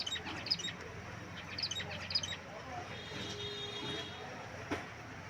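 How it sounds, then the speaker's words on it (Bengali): Pet finches kept on a balcony give a few short, high chirps at moderate distance over a low, steady background hum. "আমার যে ফিঞ্চ পাখিগুলো আছে আমি বারান্দায় রাখছি"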